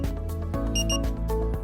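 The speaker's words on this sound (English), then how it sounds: "until the double beep." Boston Scientific spinal cord stimulator charger giving its electronic beeps, close and clear, with a short pair of high tones standing out over a steady tonal hum; no talking.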